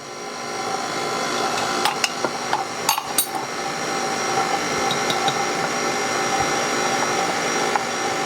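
An electric mixer beats cinnamon coffee cookie dough made with all-purpose flour, cinnamon and baking powder, giving a steady close motor whir with a few sharp clicks and knocks scattered through it.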